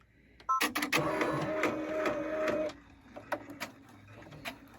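A sewing machine stitching a towel runs in a steady, loud mechanical burst for about two seconds, then drops to quieter intermittent clicks and taps.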